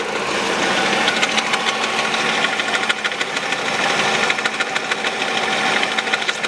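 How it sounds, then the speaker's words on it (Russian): Idling Peugeot 408 1.6 engine with a knocking crankshaft damper, a dense mechanical clatter with a steady rapid ticking knock running over the engine hum, heard close up in a workshop without talking. "Демпфер коленвала вон как ходит. Похоже, стучит вот этот."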